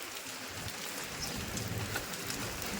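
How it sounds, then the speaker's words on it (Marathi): Heavy rain falls outdoors at a school during an Independence Day flag hoisting, a steady, even hiss of downpour on surfaces with faint scattered drops and no voices. "पाऊस काही थांबाचं नाव घेत नाही."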